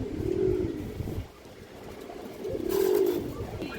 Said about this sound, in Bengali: খুবই চঞ্চল একটা কবুতর মাশাআল্লাহ, বড় সাইজ